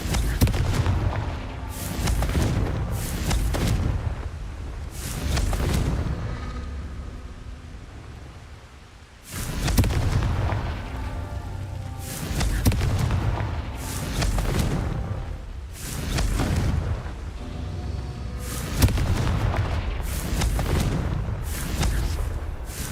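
Repeated heavy blasts from the Confringo fire spell in Hogwarts Legacy, arriving in a steady series of loud booming bursts with rumbling tails and brief gaps between them, no voices.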